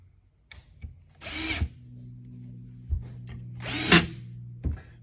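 Power drill drives short pan head screws into a cabinet face frame on a ready-to-assemble wall cabinet, two whirring bursts with faint clicks and handling noises between them.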